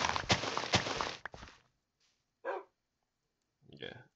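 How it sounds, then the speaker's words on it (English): Dogs in the Minecraft video game bark in two short bursts after a stretch of talking, the barks fairly clear against a quiet background. "Oh my god, I'm scared of these dogs."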